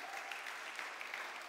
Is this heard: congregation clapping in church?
yes